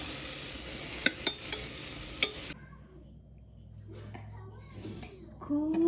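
Cauliflower, potato and peas being sautéed in butter in a pressure cooker, a steady sizzle with a few sharp spoon clinks against the metal before the frying noise drops to a quieter simmer.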